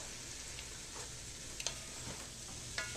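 Onions sizzle steadily while being stirred into spaghetti sauce, a constant faint frying hiss broken by a few small clicks of the spoon.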